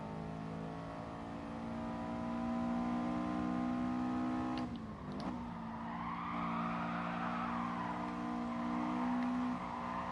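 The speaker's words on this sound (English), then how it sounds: "the actual car sounds may be lower than it should be" Race car engines in GT Sport drone steadily at high pitch, with tire skids and squeal and a brief gear-shift dip midway, all sustained and fairly loud with no talk.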